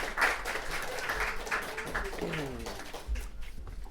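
Polite applause from a small audience at a fiction reading at the KGB bar, fairly quiet and continuous, with a voice speaking briefly over the clapping.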